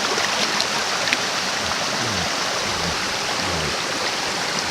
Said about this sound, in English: A short little hike out to this next waterfall.